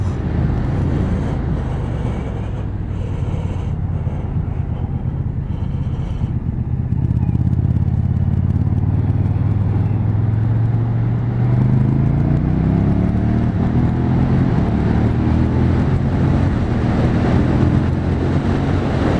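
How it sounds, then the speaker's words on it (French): A KTM 1290 Super Duke R 2018 motorcycle engine while riding, a loud continuous drone that climbs in pitch as it revs up, with wind rush throughout. "Alors ça c'est l'essai de la KTM Super Duke 1290R."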